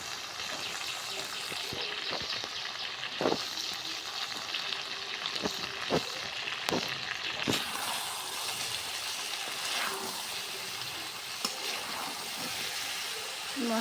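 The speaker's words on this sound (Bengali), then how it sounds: "মশলার সাথে নাড়াচাড়া দেওয়া হচ্ছে।" Potatoes and drumstick (moringa) stalks fry in a pan with spices, sizzling steadily while a utensil scrapes and knocks against the pan in irregular strokes, close and moderately loud with no voices.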